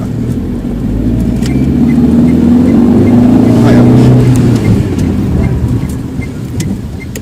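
A car engine during a learner's driving lesson on narrow Ankara streets revs up steadily, swells to a loud peak near the middle, then eases back, with voices talking inside the cabin.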